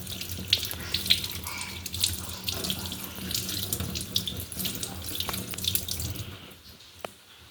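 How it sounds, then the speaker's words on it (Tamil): Potatoes are washed under a running kitchen tap, a steady close stream of water splashing into a sink with small clinks and drips before the flow tapers off near the end. "உருளைக்கிழங்கு நல்லா கழுவி போட்டு நல்லா உடைச்சி கழுவோம்"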